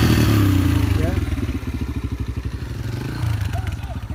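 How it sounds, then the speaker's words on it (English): A motorcycle engine is started and given a little throttle, pulsing with a steady rapid chugging rhythm close by throughout, with no talk over it. "I'll get it started again. Give it a little gas."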